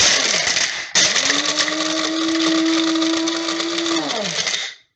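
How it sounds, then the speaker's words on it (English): Electric coffee grinder whirring at high speed as it grinds material to a powder, starting, briefly stopping, then running loud and close for several seconds with a falling pitch before it cuts off. "this you are going to use a coffee grinder, and you're gonna grind it up"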